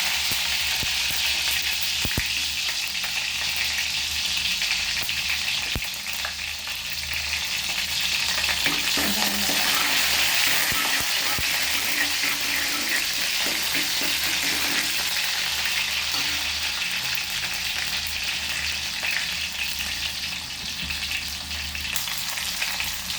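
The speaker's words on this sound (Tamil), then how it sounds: "நான் இப்போ கடுகு சேர்த்துருக்குறேன் எண்ணெய் சூடாகிட்டு வெங்காயத்தை போடுவேன்" Mustard seeds and onions fry in hot oil in a pan, producing a steady, loud crackling sizzle throughout with scattered pops and occasional stirring scrapes.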